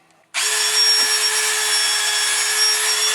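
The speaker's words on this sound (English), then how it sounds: "you're going to take your drill with the cup bit and you're going to start to" A power drill with a cup bit starts abruptly and runs at a steady high whine while cleaning cylinder head surfaces, loud and close, with no talking.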